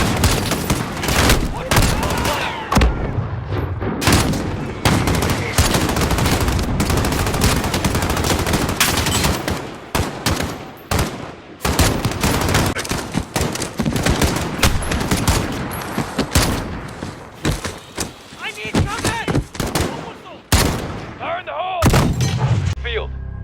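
Gunfire from a Call of Duty: Modern Warfare battle on the Highway of Death fills the scene with dense, continuous bursts of rifle and machine-gun shots at varying distances, loud and relentless with barely any pause.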